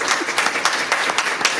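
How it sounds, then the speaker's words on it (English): A school district graduation audience claps for graduates in a brief burst of applause, a dense, fairly loud patter of many hands with no voices over it. "Can we give them another round of applause?"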